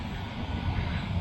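Motors of a Ruko F11 GIM2 GPS drone whir steadily as they spin up, a continuous buzzing hum that is fairly close and even in level, with no talking over it.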